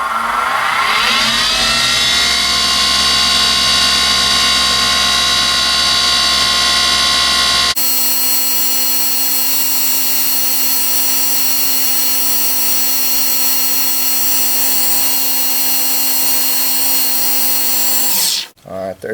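A wood lathe spins back up while turning a teardrop bottle stopper, starting with a rising whine that settles into a steady high motor hum, then winds down abruptly at the end.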